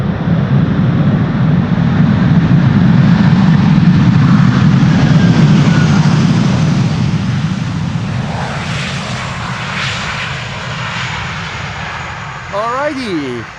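Airliner landing at Amsterdam Schiphol with thrust reversers deployed, a loud, broad roar that gradually eases over several seconds, with a short spoken remark near the end.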